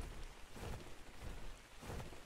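Steady rain falls in the dark in the game ARK, a continuous, fairly faint wash of patter with a few low rumbles rising now and then.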